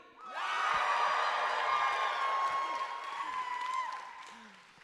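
An audience at a film night cheers and whoops loudly in a cheering contest, a sustained crowd roar that swells quickly, holds for several seconds with shouts mixed in, then fades.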